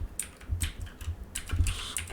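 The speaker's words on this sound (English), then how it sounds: "let's type here" Quick bursts of typing on a computer keyboard, several key clicks in irregular clusters, close and fairly soft with no talking.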